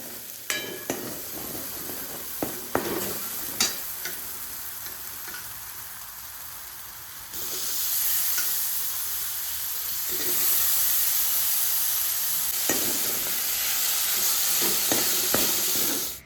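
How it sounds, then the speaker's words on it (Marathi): A vegetable curry sizzles in a pan in a village home kitchen. Sharp clinks and scrapes of stirring come first, then a louder, sustained hiss of frying, with occasional stirring knocks over it and no talk. "जी भाजी बनवायची राहिलेली ती सुद्धा बनवून घेतली"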